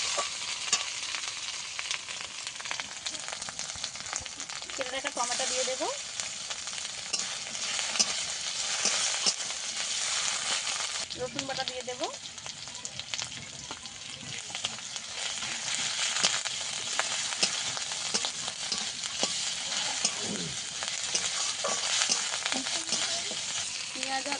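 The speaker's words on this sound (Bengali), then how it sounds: "পেঁয়াজ বাটাটা ভালো করে একটু ভেজে নেব" Onion paste fries in a pan with a continuous, close hiss and crackle, while a spoon scrapes and stirs at intervals across the long stretch, with no speech.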